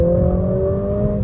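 Mercedes-AMG A45 S engine holding a steady, loud mechanical drone with a sustained whine throughout, close and with no speech.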